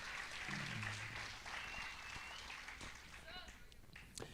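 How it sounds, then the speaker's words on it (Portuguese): Church congregation applauding during a Portuguese-language worship service, a steady wash of clapping with voices mixed in, fairly loud and continuous before gradually thinning out. "Vamos aplaudir a Jesus, que Ele merece todo louvor, toda a glória, toda a honra, toda a adoração."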